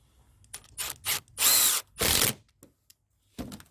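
A power drill drives a screw into a board in several short bursts, whirring in quick pulses with brief pauses between, close and loud, then a final short burst after a gap.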